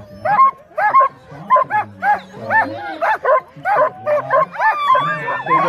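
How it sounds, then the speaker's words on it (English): Big dog at a working-dog competition giving a rapid run of loud, close barks and yips in steady bursts, some with a whining edge, with no other sound between them. "That's a big dog right there, isn't it?"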